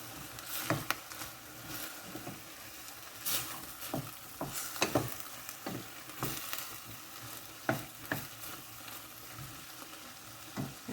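Chilli con carne is stirred in a hot pan, a continuous close sizzle broken by scraping and clattering strokes of the spoon at an irregular pace, with no talk.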